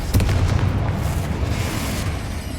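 The Confringo blasting spell in Hogwarts Legacy goes off in a loud, deep explosive boom right at the start, then a heavy rumbling that stays loud and slowly dies away.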